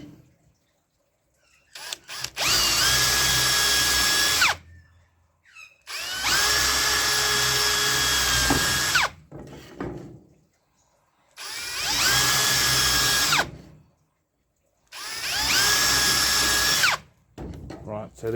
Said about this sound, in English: So I'm just going to drill the screw holes first.